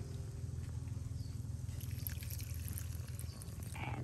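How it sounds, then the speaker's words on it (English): Coconut milk and water pour into a pot of snail curry, a steady liquid trickle over a low background hum with faint splashing, no talk. "I gotta put some a little bit of the coconut again and a bit of water"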